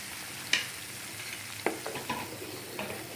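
A pot of drumstick leaf soup with onion and tomato simmers with a soft, steady hiss, punctuated by a few sharp clinks of a utensil against the pot.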